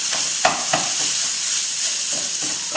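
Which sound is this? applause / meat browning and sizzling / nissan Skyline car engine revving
meat browning and sizzling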